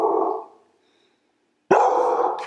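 A one-year-old female terrier barks in two loud bursts, the first fading after half a second, then a short silence before a sharp, sustained second bark close by.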